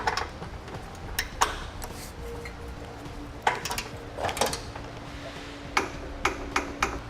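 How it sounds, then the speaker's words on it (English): A bolt on a Blue Ox base plate for a 2017 Chevrolet Equinox being tightened with a torque wrench, giving sharp metallic ticks and clicks in scattered bursts over low background hum. "now we'll tighten down that bolt. And we'll torque it to the amount specified in the instructions"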